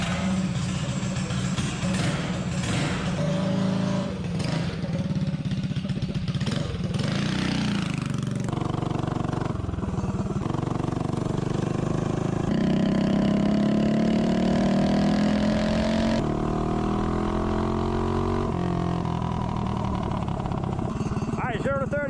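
Mini bike with a 212 engine accelerating, its buzzing motor rising and shifting in pitch across a long run, with a person talking over much of it.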